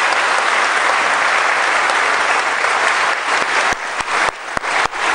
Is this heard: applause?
yes